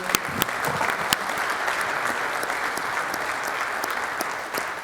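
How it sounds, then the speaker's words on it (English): A men's meeting audience gives a renewed round of applause, with steady crowd clapping throughout and a few louder, sharper claps standing out near the front. "Let's give him a round of applause again."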